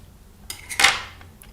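A single crisp blade slice through a polymer clay chain cane, one short scraping snick close up, then quiet.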